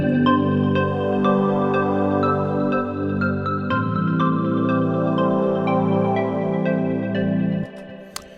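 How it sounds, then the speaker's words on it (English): Dreamy synth bell patch built in the free Vital synthesizer plays a sustained melodic phrase of bright chiming tones over warm held chords, clear and alone, ending with a fading tail. "I'm going to show you how to make a dreamy synth bell sound that sounds like this."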